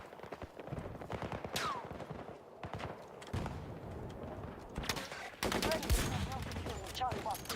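Heavy gunfire from a Battlefield video game battle, with dense automatic bursts and sharp shots crackling almost nonstop at close range, growing louder and fuller toward the end.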